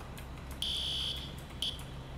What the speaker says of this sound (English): Silence the alarm.